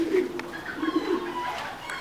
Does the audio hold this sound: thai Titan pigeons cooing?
yes